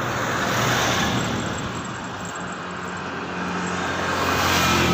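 Road traffic along a street, with a car engine rumbling nearby and a vehicle swelling and fading as it passes, a steady wash of roadway noise without talk.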